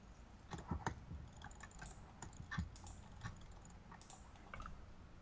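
Rapid clicking of a keyboard and mouse during a ranked League of Legends-style ADC coaching game, sharp irregular taps in quick bursts, close and fairly faint with steady background hum.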